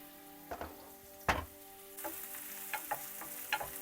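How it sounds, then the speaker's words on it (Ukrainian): Quiet frying sizzle of onion in a skillet, with a few soft clinks and scrapes of stirring spaced through it. "я буду підсмажувати цибулю, не тушкувати, а підсмажувати"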